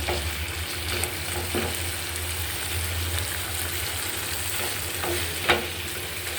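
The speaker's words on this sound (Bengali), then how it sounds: "এটা সুন্দর করে ভেজে নিচ্ছি" Rohu fish and potatoes fry steadily in a pan, giving a continuous close sizzle with occasional stirring scrapes and a sharper clink near the end, with no voices.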